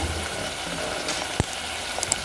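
Ginger garlic paste fries in a pan on raised heat with a close, steady sizzle, broken by one sharp tap of a utensil midway and a couple of light clinks near the end.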